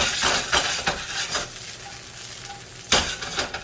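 Food sizzling and frying in a pan on the stove for a surf and turf dish, with a steady crackle punctuated by several louder bursts of spitting and stirring scrapes, then a sharp flare near the end.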